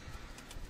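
Pigeons perched on a rooftop coo faintly in low, soft pulses beneath a broad, hissy background, a brief quiet stretch with no voices.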